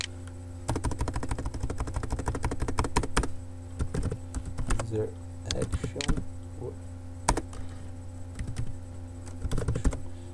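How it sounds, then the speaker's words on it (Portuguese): Computer keyboard typing in a Java Struts programming lesson, a fast run of close, crisp key clicks followed by scattered bursts of keystrokes, with a few brief spoken words in between. "Consigo fazer tanta coisa bacana com o teclado"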